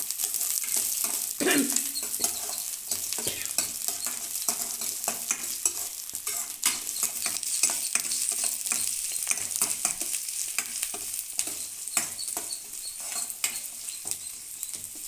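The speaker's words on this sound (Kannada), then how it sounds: "ಸ್ವಲ್ಪ ಎಣ್ಣೆಲೆ ಚೆನ್ನಾಗಿ ಫ್ರೈ ಆಗಲಿ." Chicken with green chilies frying in oil in a pan, a steady, close hiss of sizzling broken by frequent sharp clicks and scrapes of stirring, with no one talking.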